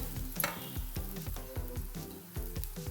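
A fasting-style thalipeeth sizzles and fries steadily on a hot griddle, a continuous, close, crackling hiss with no voices.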